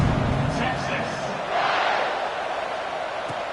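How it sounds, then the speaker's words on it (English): A college football stadium crowd in Texas versus Texas Tech keeps up a steady, broad roar throughout, with a commentator's voice riding over the buzzing mass of fans. "this crowd is buzzing after that last score"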